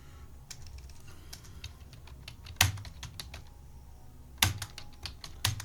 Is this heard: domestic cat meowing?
no